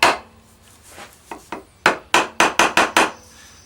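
Heavy handle knocking repeatedly on a wood lathe chuck to free a turned wooden egg: a few scattered hard wooden knocks, then a quick run of six sharp, loud raps close by.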